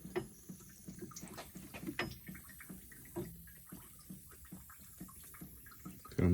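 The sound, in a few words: water leaking from wall mount faucet plugs under pressure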